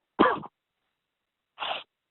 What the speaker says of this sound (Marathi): ऐकलं खोकला कोरडा खोकला लागतो मरणाचा.